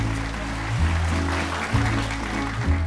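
Studio audience applause congratulating a couple on a Vietnamese dating show, steady clapping under a loud, low musical backing with stepped bass notes, no talk over it.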